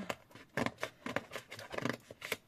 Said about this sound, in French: Je vais découper ça proprement.